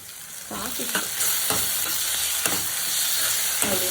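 Onions with masala stirred and frying in a pan, a steady sizzle broken by repeated scraping strokes of a spoon against the pan, close and fairly quiet with no talking.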